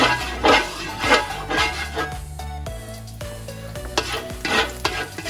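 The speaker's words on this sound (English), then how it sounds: "We're going to cook the pork." Pork tenderloin is frying in warmed oil, giving a bright crackling sizzle with repeated bursts of stirring and scraping in an uneven rhythm, close and alone without talk.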